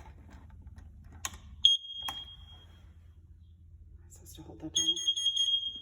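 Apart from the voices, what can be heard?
smoke detector alarm beeping during test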